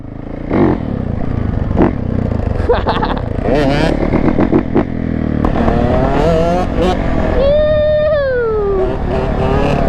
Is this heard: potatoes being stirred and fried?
no